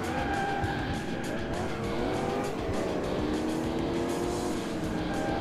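Race car in the Alarm für Cobra 11 driving game, a tuned car during a four-lap race, engine droning steadily with squealing, skidding tyres, loud and continuous with no voices.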